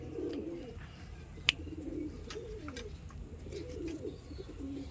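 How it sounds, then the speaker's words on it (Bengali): Domestic pigeons coo in soft, repeated low phrases at close range, with a few faint chirps and one sharp click in the background of a quiet home coop. "পায়রাটা আমি একটু দেখাই দেখুন"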